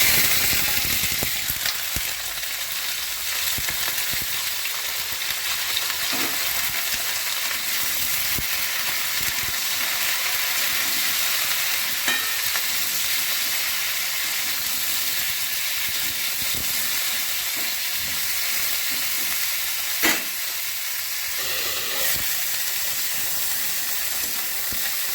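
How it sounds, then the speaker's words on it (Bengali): Cauliflower pieces fry in a pan with a steady, loud sizzling hiss that fills the whole stretch without pause, broken by a few faint clinks. "প্রথমেই আমি ফুলকপিগুলো ভেজে নিচ্ছি"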